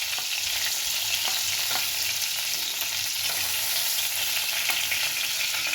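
Chopped onion frying in oil in a pan just used for frying prawns, a dense, constant close sizzle with faint stirring clicks throughout, no one speaking.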